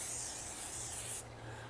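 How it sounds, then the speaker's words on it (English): A steady hiss of cooking oil spray onto a leg of lamb lasting just over a second, then cutting off abruptly, with a low background hum underneath. "I'm going to hit it with just a little bit of spray oil"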